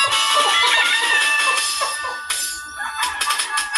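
Chickens clucking and crowing close by, a dense, busy flock noise filling the whole stretch with a brief dip midway.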